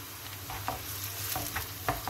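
Chopped onions sizzle in olive oil in a home kitchen pan, a steady close frying hiss broken by several soft stirring scrapes.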